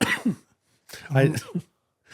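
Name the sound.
person coughing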